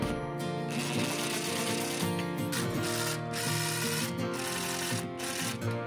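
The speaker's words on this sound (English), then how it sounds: "I'm just gonna temporarily just lightly screw these on." Lightly driving screws into IKEA floating shelf brackets produces a steady run of close ratcheting clicks for about six seconds, with no talking.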